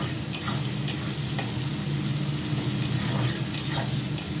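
Onion frying in oil for a rice dish hisses steadily up close while a spatula stirs it, with repeated scraping strokes against the pan at an uneven rhythm and no talking.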